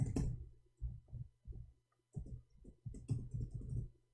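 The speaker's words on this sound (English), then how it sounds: "I will type it one more time" Quiet, close keyboard typing in short bursts of soft clicks and taps separated by brief pauses, faint against a low hum.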